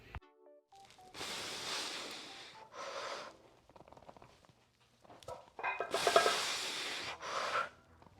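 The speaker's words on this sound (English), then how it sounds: "pay close attention to my breathing during these sets" Heavy forceful breathing during bench press sets in a gym, several loud, harsh exhalations and snorting breaths in bursts separated by short quiet gaps, close to the microphone.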